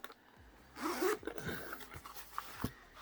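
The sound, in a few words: unzipping the Anker Soundcore headphone case zipper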